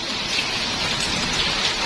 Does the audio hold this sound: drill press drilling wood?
no